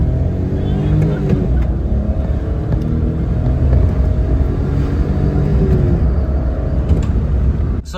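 Suzuki Alto Works HA22S, a small turbocharged kei car, accelerating hard down a city block, its engine droning loud and steady with rising harmonic tones for several seconds, with a voice speaking over it.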